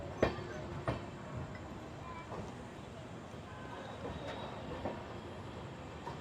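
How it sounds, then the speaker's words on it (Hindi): A train pulls out of Saharanpur station in India, a low rolling rumble with a few sharp clanks early on and fainter knocks later, fairly quiet, with faint background voices. "अपनी सहारनपुर को अलविदा करते हुए अपनी ट्रेन निकलते हुए"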